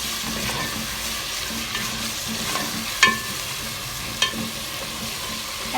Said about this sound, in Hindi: चिकन डाल दिया है, अब इसको हम फ्राई करेंगे, अच्छे से इसको फ्राई करेंगे।